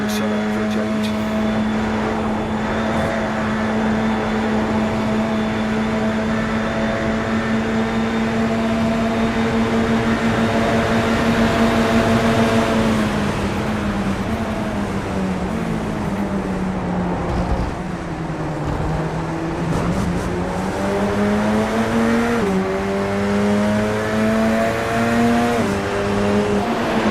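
A Radical race car lapping Thruxton circuit, its engine holding a loud, steady high whine before dropping and climbing through gear changes and throttle lifts in long corners, with road and wind roar beneath.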